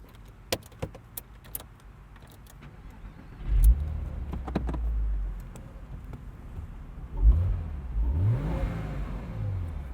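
A 2001 Porsche Boxster S driven with the top down, its mid-pitched engine rising in two revving surges under wind noise, with light jingling and knocks in the cabin early on.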